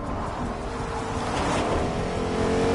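A car driven in the video game Fortnite, its engine a steady, loud drone that builds slightly in intensity, heard up close with no talking.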